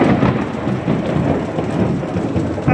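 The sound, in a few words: thunder and heavy rain in a thunderstorm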